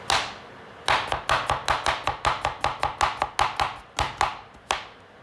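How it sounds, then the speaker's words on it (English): Knife chopping ingredients for a shrimp stir-fry on a board, about twenty crisp, evenly spaced chops in a fast rhythm, close and clear with no talk. "chop that up"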